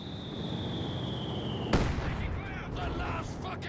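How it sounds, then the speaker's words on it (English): A single mortar shell lands with a sharp, booming impact in the Company of Heroes 2 strategy game. It cuts through a steady hiss of battle ambience and is followed by faint rumbling and crackle. "Mortar shell lands again."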